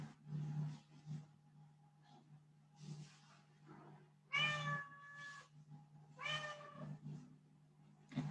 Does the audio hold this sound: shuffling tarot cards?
no